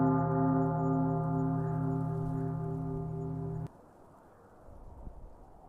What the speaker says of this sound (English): Bells from the church ring once, twice, to tell the valley the day has begun.